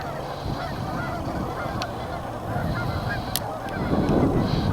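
A late-season snow goose honks repeatedly in a riverside wilderness park. The calls are steady and fairly close against a constant outdoor background hiss, with no talking.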